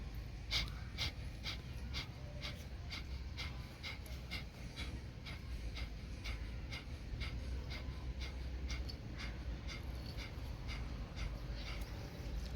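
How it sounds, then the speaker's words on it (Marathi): Kapalbhati yoga breathing through the right nostril, left nostril closed: a long, even series of quick, forceful exhalations, nearly two per second, close and steady against a low background hum. "डावे नाशिका बंद करायची आणि उजव्या नाशिकेने श्वास चालवायचे सुरुवात करतो"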